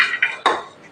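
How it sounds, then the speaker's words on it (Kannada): Chopped Malabar spinach greens going into a pressure cooker, with two quick, close metallic clinks of a utensil against the pot, then a fading ring, with no voices. "ಕುಕ್ಕರ್ಗೆ ಹಾಕ್ತಾಯಿದ್ದೀನಿ."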